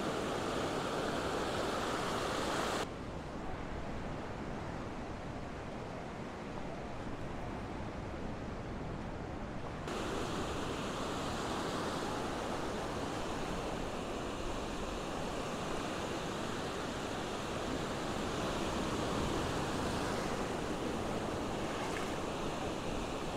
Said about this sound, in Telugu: point Malpe beach the best beach నేను ఇప్పటివరకు చూసిన బీచ్లో